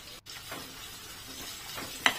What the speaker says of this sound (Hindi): अभी हम इसे गोल्डन कलर आने तक इसे फ्राई करके ले लेंगे